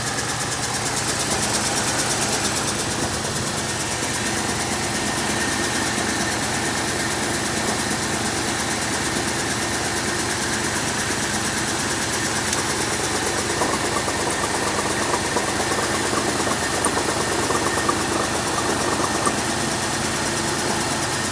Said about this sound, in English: I think that little rattling is coming from over here. It's one of the pumps.